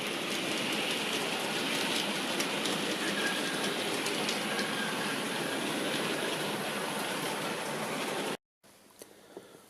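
A Lima model diesel locomotive in desert sand livery running slowly on a model railway, a steady smooth whirring rumble with faint track clicks that cuts off abruptly near the end before quieter noise resumes.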